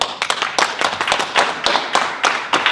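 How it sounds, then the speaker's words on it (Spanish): Hands clap in an irregular burst at a Spanish science talk, a small group applauding at close range with uneven, scattered claps rather than a dense roar. "Ahora soy yo el que os da el aplauso"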